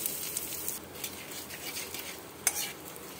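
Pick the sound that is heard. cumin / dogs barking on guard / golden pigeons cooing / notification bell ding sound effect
cumin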